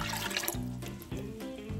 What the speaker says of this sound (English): Go ahead and put your orange juice into a pot along with 2 cups of water.